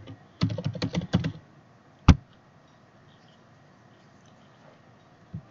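Quick burst of typing on a computer keyboard while entering a suggested password into a codeless app builder, a dense run of close clicks followed by a single sharp keystroke and a faint later tap.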